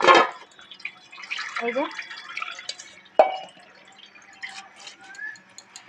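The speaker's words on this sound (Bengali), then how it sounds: "চিড়াটা এভাবে ধুয়ে জলটা ঝরাতে দিয়ে দেবো।" Water drips and drains from washed flattened rice (chira) left in a basket in a village kitchen. Light patters and trickles sit under a nearby voice that speaks throughout.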